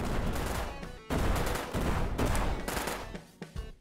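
Cannon fire in the FPS Chess shooter game, loud booming blasts in several bursts broken by brief gaps, with rumbling gunfire textures close up.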